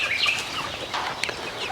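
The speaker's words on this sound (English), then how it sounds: "another set of chickens in coop number 2 here" Chickens cluck and chirp inside a coop, several birds close by making busy overlapping calls in a short burst with no talking.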